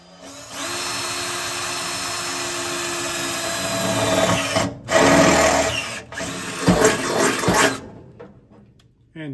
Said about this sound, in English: And drill out our spot for our 2 bolts.